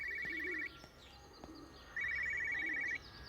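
Old brick-style telephone ringing in the video game Everybody's Gone to the Rapture, two bursts of rapid electronic trilling separated by a pause, faint clicks and quiet ambience between the rings.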